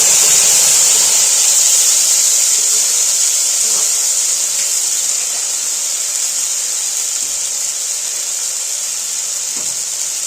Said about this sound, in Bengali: টমেটোটা অবশ্যই আমার সেদ্ধ করা ছিল, তো সেইটাই আমি ছেড়ে দিলাম এর মধ্যে।